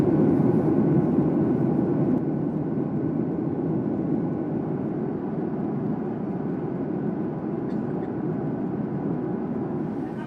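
Steady, loud airplane cabin roar in flight just after takeoff on a two-hour route to Hong Kong, a broad unbroken rumble with jet hiss on top, continuous for the whole stretch with no talking.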